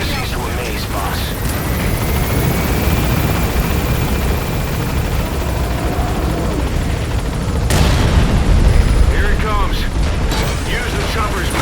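Helicopter rotors thrum continuously in Metal Gear Solid V, loud and steady across the whole stretch, with a sharp blast or burst of gunfire near the middle and speech-like game voices over the top.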